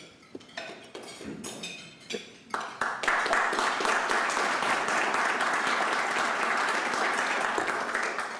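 Applause from an audience at a talk by a U.S. congressman from Louisiana, starting as scattered claps with some clinking of dishes and cutlery, then swelling into steady, fairly close clapping that holds to the end.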